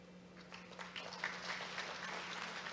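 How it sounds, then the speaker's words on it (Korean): Applause from a conference audience at an academic accounting society's opening ceremony, a steady patter of many hands clapping at moderate distance, with a faint hum underneath. "다시 한번 큰 박수 부탁드립니다"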